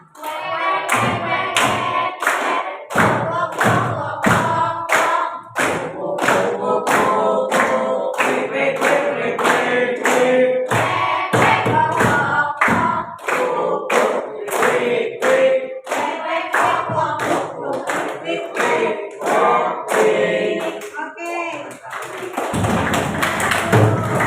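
Students standing in a classroom clap their hands together in a steady, loud, rhythmic beat, the claps continuing without a break for over twenty seconds with slight variations in pace.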